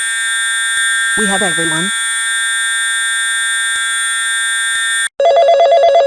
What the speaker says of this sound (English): this fire alarm was a false alarm